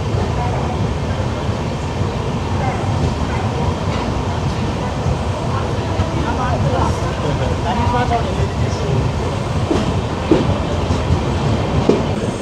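An Ernakulam–Bangalore Intercity superfast express with LHB coaches rolls steadily along the rails near Ernakulam Junction, a constant low rumble with faint wheel clatter and occasional squeaks, close and continuous.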